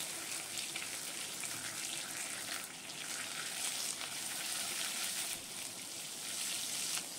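Fresh curry leaves, about twenty to twenty-five, sizzle steadily in hot oil while making Karnataka upittu; a continuous bright crackling hiss holds at an even level throughout, with no voices.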